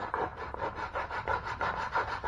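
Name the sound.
filing a wooden crankbait lure body by hand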